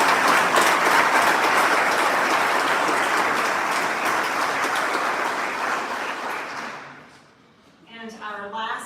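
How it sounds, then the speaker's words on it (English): Applause fills a Virginia State Police awards ceremony, a dense steady roar of clapping that fades out near the end, with a voice starting to speak as it dies away. "Let's give another round of applause to"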